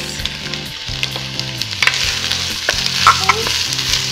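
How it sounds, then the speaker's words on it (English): Onions sizzle and crackle steadily in hot oil, a loud continuous frying hiss with occasional spatters, over a faint low hum. "just gonna add our onions. Ooh, nice sizzle."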